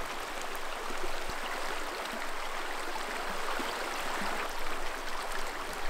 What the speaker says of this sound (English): hearing the quiet whisper of a slow-flowing river